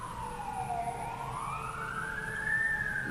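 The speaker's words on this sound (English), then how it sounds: "this is those sirens" A siren wails steadily, its pitch sliding slowly down and then rising again, heard at moderate distance over a low traffic rumble.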